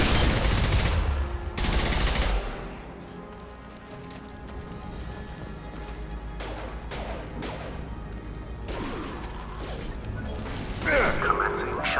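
Heavy bursts of gunfire erupt in a Mass Effect 2 firefight, loud blasts at the start followed by scattered shots, mechanical clanks and impacts, with a voice talking intermittently.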